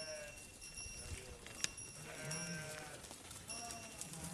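A flock of sheep gathers near a shepherd's shed, giving faint, distant bleats over a quiet outdoor background with a soft thump partway through.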